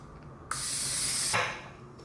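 A single burst of cooking spray hisses onto a pan in a home kitchen, starting sharply and holding steady for about a second before tailing off, close and loud.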